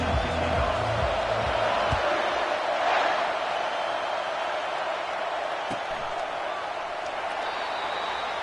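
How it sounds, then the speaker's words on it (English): Stadium crowd in EA Sports College Football, Florida at Auburn, giving a steady, dense roar of cheering throughout, with a brief swell near the middle, under a commentator's voice. "Listen to the crowd energy here in the early going."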